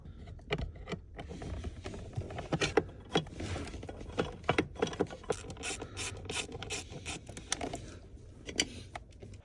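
Mechanical scraping, clicking and ratcheting from undoing a bolt on the footwell side panel of a BMW E90/E92/E93 interior, with irregular close tool noises and plastic rattles, no talking.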